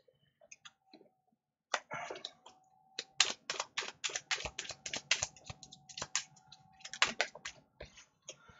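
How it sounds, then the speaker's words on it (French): A deck of playing cards is shuffled close by in quick bursts of crisp clicking and riffling, separated by short pauses, with a faint background tone. "c'est très long, le battement de cartes"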